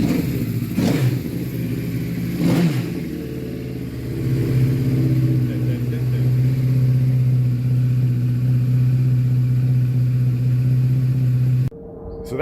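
A Honda CBR1000RR motorcycle engine runs close by, two sharp revs early on, then a steady loud idle drone that cuts off near the end.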